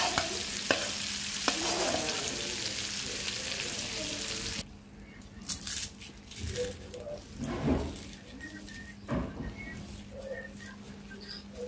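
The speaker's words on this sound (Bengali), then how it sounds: "ভর্তার জন্য পেঁয়াজ ভেজে ফেললাম, শুকনো মরিচ ভেজে নিচ্ছি।" Dried chilies fry in a pan after onions, first as a loud steady sizzle. It then drops to quieter crackling with occasional stirring scrapes, close up.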